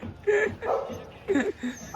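A dog gives several short yips and whimpering barks close by over about two seconds, mixed in with some nearby voices.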